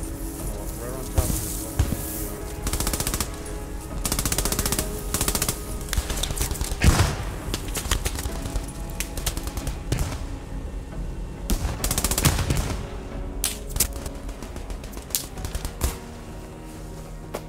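Machine gun fire in the World War II shooter Post Scriptum, dense rattling bursts and scattered shots continuing throughout, loud and near, with a player's voice talking over the gunfire.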